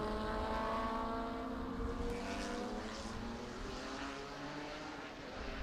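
Prototype race cars at Laguna Seca circuit drone past at a distance, a steady, fairly faint engine whine with layered tones that swells slightly and then slowly fades.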